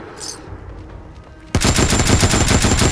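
A quiet stretch, then a sudden loud burst of rapid automatic fire from a Pancor Jackhammer shotgun in Fallout 4, blasts hammering in quick succession until the end.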